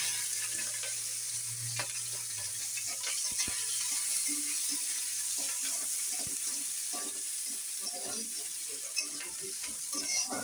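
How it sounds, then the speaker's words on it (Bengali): Cumin and capsicum sizzle in hot tempering oil for khichuri, a steady crackling fry with occasional stirring clinks from the pan, close and continuous. "ফোড়নে দিয়ে দিচ্ছি, ক্যাপসিকাম একটু দিয়ে দিচ্ছি লাস্টে।"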